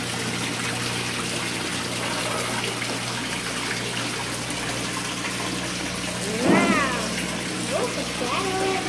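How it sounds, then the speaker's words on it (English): Water rushes steadily at a waterfall, a dense continuous roar that holds through the whole stretch, with a brief faint voice near the end. "There's a lot of water down there."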